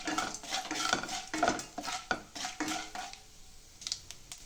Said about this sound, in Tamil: உளுத்தம் பருப்பு, அடுத்தது கடலைப்பருப்பு, எல்லாத்தையும் சேர்த்து நல்லா வறுத்துடலாம்.